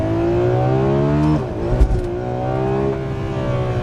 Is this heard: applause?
no